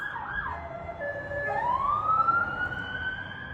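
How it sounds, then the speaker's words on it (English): A wailing emergency siren sweeps down and then rises again, steady and fairly loud over a low rumble of traffic, with no talking. "I love the serenade of the fucking sirens."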